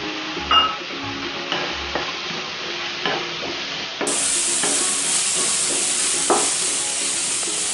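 Chopped capsicum stir-frying in a pan for egg roll filling, with a close, steady sizzle and hiss under a few spatula scrapes and taps against the pan.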